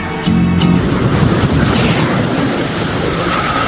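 Steady, loud roar of seashore waves and surf washing in, a continuous wash of noise with some wind buffeting the microphone and no talking.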